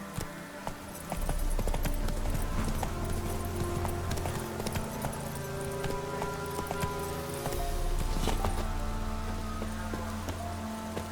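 Horse hooves clip-clop steadily in The Witcher 3 as Geralt rides, a continuous rhythmic trot at close range with a low ambient drone, briefly easing around the middle before resuming.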